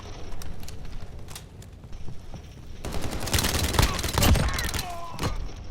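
Gunfire in the Call of Duty Modern Warfare game on the Hovec Sawmill map, with an Uzi in play: loud bursts of automatic fire swell in the second half of the clip, layered over steady background noise.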